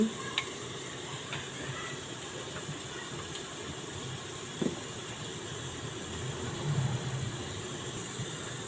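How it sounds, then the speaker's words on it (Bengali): Spices and salt stirred in a frying pan, a steady low sizzle with a few soft scraping knocks and clinks, close and fairly quiet, no voices. "ভালো করে নাড়াচাড়া করে নেব। স্বাদ মতো লবণ,"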